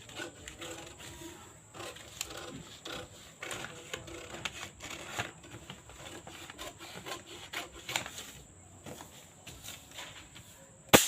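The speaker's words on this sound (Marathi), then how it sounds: "आता आपण हे कट करायचं आहे कट करताना आपण इकडच्या साईडने कट करायचं आहे" Scissors cutting through blouse fabric on a tailoring surface, a steady run of soft snipping and rubbing strokes, close and quiet, without speech.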